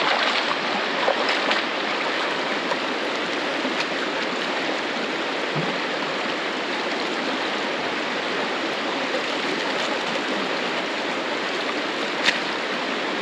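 Water in Mission Creek flows during gold panning, a steady, close, broadband rush that continues unbroken with no voices and only a few faint knocks.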